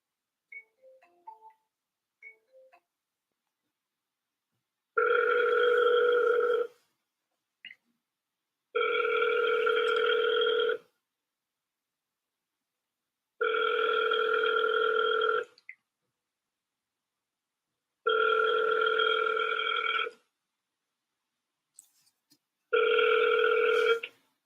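Ringback tone on an outgoing phone call to an agent: five steady ringing bursts of about two seconds each, evenly spaced by quiet pauses, clear and close with no talking.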